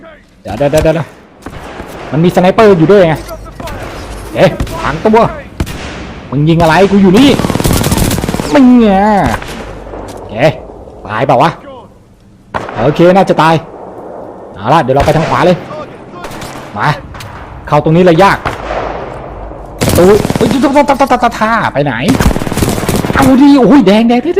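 Gunfire in the video game Titanfall 2 comes in loud, dense bursts of rapid shots with short pauses between them, and someone talks excitedly over the shooting.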